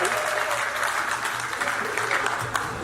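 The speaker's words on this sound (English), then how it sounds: "I think still the Rotarians can clap for that one" Rotarians at a Rotary District Conference in Diani clap together in a moderate, steady round of applause. Faint voices are mixed in underneath.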